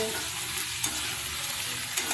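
Potatoes and onions, with crushed dried chillies, stirred in a frying pan, giving a steady close sizzle of hot oil with soft scraping strokes and a couple of brief louder knocks.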